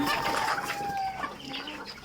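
Chickens clucking softly in a poultry shed while drinking water, a faint steady murmur of hens with a few short calls and no talk.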